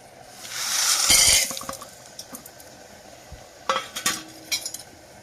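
Mustard seeds, chana dal, dried chillies and peanuts dropped into hot sesame oil, a loud burst of sizzle up close that fades, then metallic clinks of a spoon stirring against the pan.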